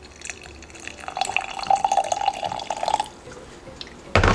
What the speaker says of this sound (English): what I'm gonna do is add 1/4 of the jar with clean water